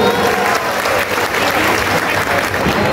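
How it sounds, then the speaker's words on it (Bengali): Loud, dense applause from a large crowd of students and parents at an awards ceremony for high-achieving pupils at Jamuna Industrial Park, a continuous roar of clapping throughout. "তোমাদেরকে এবং তোমাদের বাবা মার জন্য একটা জোরে করতালি হবে এখানে"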